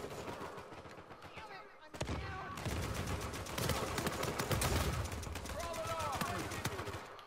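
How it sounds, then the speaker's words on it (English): Rapid bursts of automatic gunfire in the multiplayer mode of the game Uncharted 4, dense rattling shots that run almost continuously, with voices faintly mixed in. "Getting shot at."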